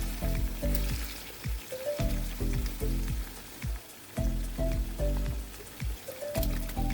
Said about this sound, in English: I then added onions. Let it fry for a few minutes.